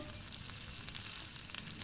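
Whole cumin seeds sizzle steadily in hot oil for a home-style parshe fish curry, a close, even hiss with small crackling pops scattered through it and no talking.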